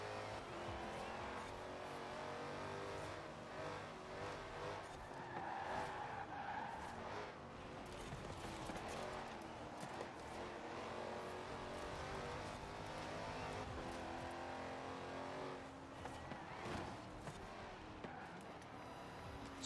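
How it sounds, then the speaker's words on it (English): Rear-wheel-drive race car in a racing video game, tires spinning and squealing hard off the start, a continuous loud skidding screech over steady engine roar that runs throughout. "This car is very hard to start. With this rear wheel drive just ripping through tires."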